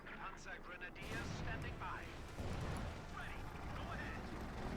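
Artillery fire in the video game Company of Heroes 2, booming blasts and rumbling impacts set against battle noise, heard under continuous commentary talk.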